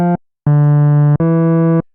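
A Diva software synth patch with three oscillators active plays three loud, buzzy sustained notes: a short stab, then two longer held tones, clean and alone.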